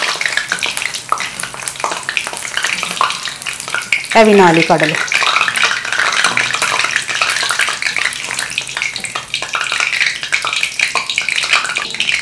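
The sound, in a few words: batter drops frying in oil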